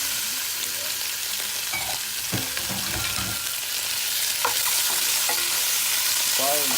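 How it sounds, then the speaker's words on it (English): Squirrel meat sizzles in hot oil with golden brown garlic, a steady close crackle of frying with occasional scrapes and clinks from stirring. "it's starting to turn brown, so I'm gonna add the squirrel meat to it."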